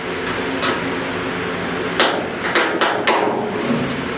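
Metal hook tools pull a light dent out of a car panel. A few sharp metallic taps and clicks come close and fairly loud over a steady background hum, spaced irregularly through the second half.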